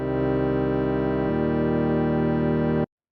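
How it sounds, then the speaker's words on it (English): Sustained organ chords play, one held chord shifting to another partway through, then cutting off abruptly into silence. "First we have this organ sound."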